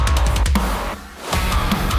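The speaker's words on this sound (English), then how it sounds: "let's put these impacts over here as well" Heavy impact hits land over a dense, loud modern metalcore mix, sharp broadband slams punctuating the track, with a brief dip in the music near the middle before it crashes back in.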